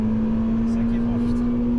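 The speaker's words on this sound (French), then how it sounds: "Et ce bruit moteur" A Honda Civic Type R EP3 engine runs with a steady, loud drone and a strong even hum close by, under someone talking.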